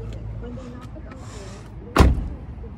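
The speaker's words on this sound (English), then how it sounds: "Door closes." A door on a 2001 BMW 740i E38 shuts with a single solid thud after a quiet stretch of low ambient noise and faint vehicle hum.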